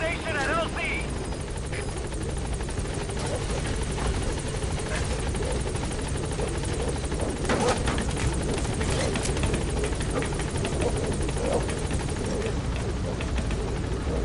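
A helicopter in Metal Gear Solid V hovers at the landing zone, a steady loud rotor thrum filling the whole stretch with a brief radio voice near the start.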